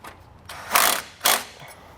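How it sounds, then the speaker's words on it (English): A bolt on an Air Lift LoadLifter 7500 XL helper-spring bracket is wrenched tight, with two close, short ratcheting bursts and quiet pauses around them, and no talking. "you want to make sure you get that bolt started correctly before you go tightening it down so you don't strip it"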